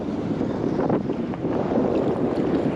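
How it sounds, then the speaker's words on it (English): Strong wind roars outdoors by the water during a metal-detecting outing, a dense, constant rush buffeting the microphone throughout with no voices. "this wind has really picked up out here"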